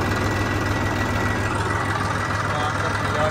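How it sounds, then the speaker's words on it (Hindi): A Massey Ferguson tractor diesel engine idles after starting, a steady low rumble with a regular throbbing pulse, close and loud, continuing evenly throughout. "कर लिया ट्रैक्टर ने स्टार्ट"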